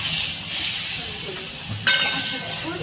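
Mustard flowers frying in a pan give a steady soft hiss and sizzle, with a brief stirring clatter near the end, close and fairly quiet.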